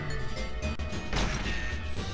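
Glass smashing in the shooter GoldenEye 007: a loud crash with a bright shattering burst, heard amid other steady game sounds, with a sharp hit just before it.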